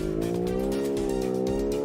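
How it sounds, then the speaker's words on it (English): Simulated car in the BeamNG driving game with a European-style V8 engine, a steady loud engine drone with tire squeal layered on top, continuous for the whole stretch with no talk. "You've done a good job with engine sounds here."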